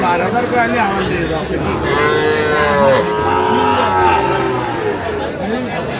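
Sahiwal bulls and cattle at a Kishoreganj livestock market low and moo loudly in long, wavering calls, one after another, over a constant background of crowd chatter and voices.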